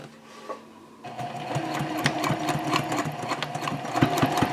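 Home sewing machine stitching fabric lining on a small key fob card pouch, starting after a moment of quiet and then running continuously with a rapid, even needle rhythm, close and clear, alone.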